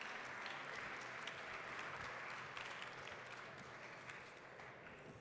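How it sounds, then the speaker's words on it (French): Audience at the GI Awards trophy ceremony applauds award winners in the productive performance category, a faint, steady patter of many hands clapping that carries on evenly and eases slightly toward the end, with no talking. "On vous applaudit."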